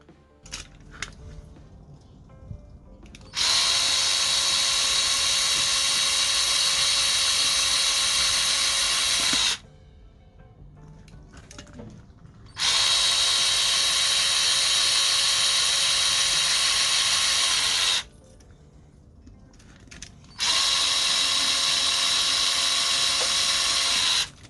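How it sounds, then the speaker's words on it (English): Three long bursts of a small high-pitched drill or tap cutting into a plastic Hot Wheels toy truck body, each running several seconds and separated by short quiet pauses, close and steady. "I'm using my 2mm tap in order to create threads for the screws"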